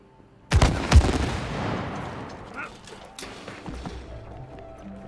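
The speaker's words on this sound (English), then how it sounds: "And then I'll shoot it." Gunshots in the video game It Takes Two: a loud, booming pair of shots fading into a long reverberant tail, followed by a softer thump, with voices talking underneath.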